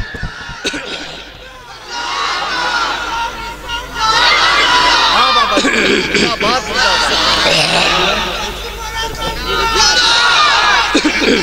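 A large crowd at a religious gathering chants the takbir slogan in loud, surging waves of voices, rising and falling in rhythm over a continuous babble with a bright, reverberant hall quality.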